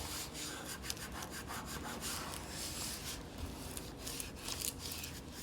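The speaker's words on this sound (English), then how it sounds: "At this point, you can rub it down with your hands." A craft sticker from a rainbow DIY kit rubbed down firmly by hand, producing a steady, close, dry scraping rub that continues without pause, with no voices.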